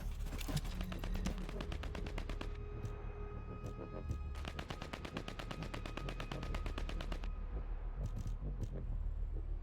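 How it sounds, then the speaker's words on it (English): Rapid bursts of scout rifle fire in a video game ring out in two long volleys, each a tight run of sharp, evenly spaced shots, followed by a few scattered single cracks. "A scout rifle."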